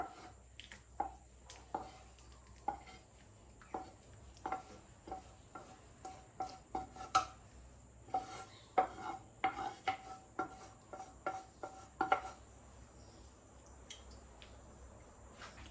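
Repeated light clinks and scrapes of a utensil against a plate or bowl as fried sardines and rice are served, spaced irregularly, with a steady insect-like chirp humming in the background.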